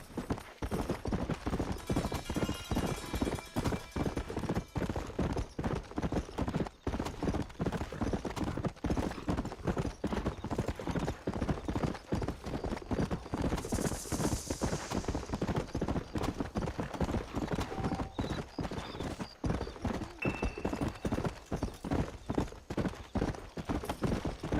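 A horse galloping in Red Dead Redemption on Xbox One X, rapid rhythmic hoofbeats pounding steadily and close throughout, with brief game sound effects and faint background noise.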